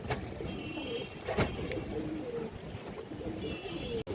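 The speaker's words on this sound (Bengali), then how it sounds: "লাইনের এক প্যার লাল চুল্লি কবুতর আছে" Lal Chulli pigeons of an old line coo steadily, low rolling calls layered close together with a few sharp clicks and faint traffic behind.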